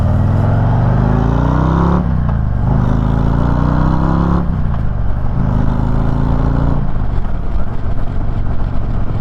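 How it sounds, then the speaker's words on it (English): Harley-Davidson CVO touring motorcycle with its stock exhaust accelerating, a loud, close engine note rising through several gears, pitch climbing then dropping at each shift, steady and continuous with no talk. "here we go for the Harley Davidson stock exhaust on the CVO."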